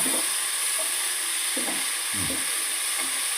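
A spoon scrapes and stirs vegetable biryani masala with chili powder and coriander powder in a pan, with soft, irregular scraping strokes over a steady low sizzle and hiss.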